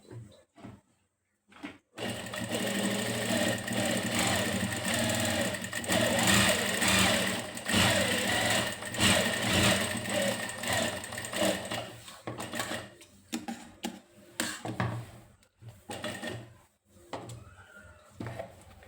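A sewing machine runs stitching the edge of a shirt, whirring loudly and steadily for a long stretch before slowing into short, stop-start bursts and a final quiet pause.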